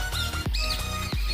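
A macaw parrot at Kanpur Zoological Park gives a rapid series of harsh, loud squawks, roughly four close calls in quick succession.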